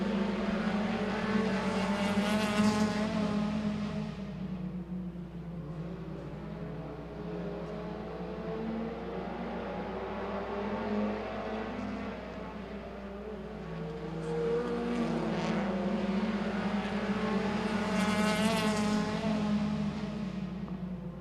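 Race cars roar around Agassiz Speedway on a track, the engine noise swelling twice as the pack passes close, with a steady distant drone between passes.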